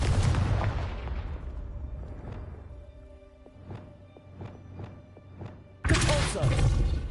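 Confringo blasting-spell explosions in the game Hogwarts Legacy, a heavy booming blast that decays into a string of sharp rhythmic thuds, then a second loud burst, close and forceful with game music tones underneath.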